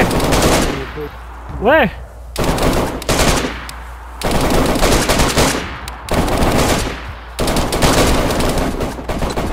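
Heavy gunfire in DayZ: loud bursts of automatic fire come in several clustered volleys separated by brief gaps, with one voice briefly calling out between shots.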